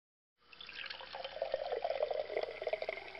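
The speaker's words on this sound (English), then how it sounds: "they will begin to drip the filtered water down into the lower chamber" Royal Berkey water filter dripping filtered water into its lower chamber, a soft, continuous trickle with irregular splashy drips that starts after a brief silence and stays close and fairly quiet.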